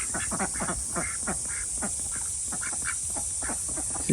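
Ducks at a pond quack in quick repeated bursts, several birds calling close by over a constant high background hiss.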